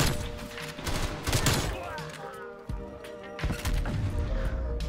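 Rapid bursts of gunfire from a video game shooter crackle repeatedly over several seconds, loud and close, with overlapping shots and some in-game action noise.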